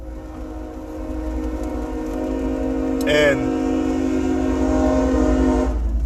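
A train rumbles past with a steady, loud low roar, and its horn sounds once in a short, bright blast midway through; a brief spoken word is heard faintly over the rail noise.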